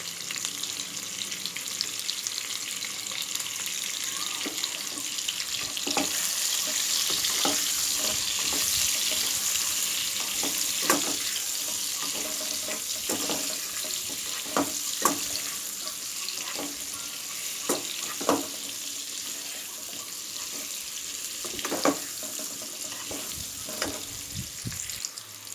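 Potatoes seasoned with salt and turmeric fry in a pan with a continuous soft sizzle, punctuated by occasional light stirring clicks and scrapes throughout.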